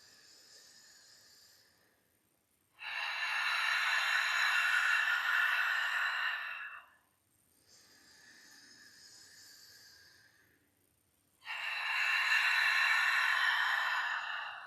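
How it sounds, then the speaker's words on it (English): Deep breaths during a guided meditation, each a long steady inhale followed by a louder, forceful exhale through the mouth, repeated twice, close and sustained with nothing else heard. "Fill the lungs up, AH out of the mouth."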